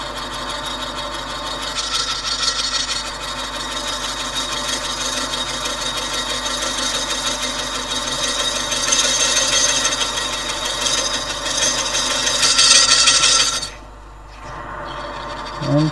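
A gouge cuts the rim of a large rotten wood bowl on a spinning lathe, giving a steady, loud rasping scrape that swells and fades over several seconds before it briefly drops away near the end.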